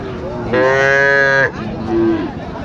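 A cow at a cattle market lets out a long, loud moo, then a shorter, softer low call follows, with faint background noise around it.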